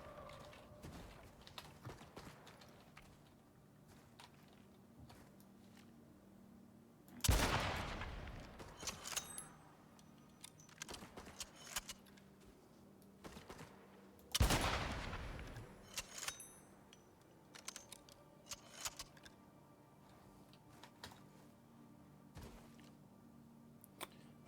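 Automated turrets fire guns in the video game Icarus: two loud bursts of gunfire several seconds apart, each with a sharp onset and a long decaying tail, while fainter scattered shots and game ambience continue between them.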